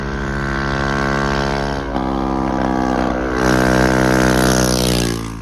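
A Honda Monkey motorbike engine runs loudly in wet, stormy weather, its exhaust having fallen off, giving a continuous buzzing drone with a strong rumbling tone that revs up briefly near the middle, close and steady with no talk.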